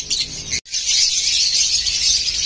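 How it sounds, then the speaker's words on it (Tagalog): Caged birds at a bird seller's nursery give a steady, dense high chirping that fills the whole stretch, with one very brief gap near the start. "Ayan po, mga ibon na Sir Edgar."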